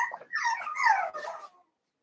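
Puppies playing and whimpering while wrestling with an adult dog, a string of high, close whines and yips over about a second and a half before going quiet.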